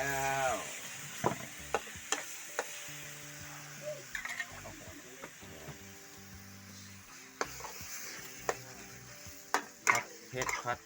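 Eel pieces being stir-fried in a pan for a spicy stir-fry, with a steady sizzle under repeated close clatters and scrapes of the utensil against the pan, and a faint tonal background throughout.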